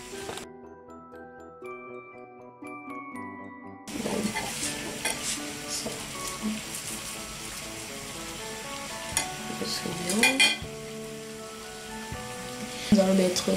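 Spinach cooking in a pot while being stirred, with crackling sizzle and scraping stir sounds after a short opening of quiet tonal music, the frying continuing steadily with occasional louder clatters.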